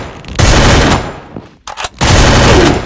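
MP5 submachine-gun fire in a video game comes as two loud, rapid automatic bursts separated by a brief pause with a few clicks.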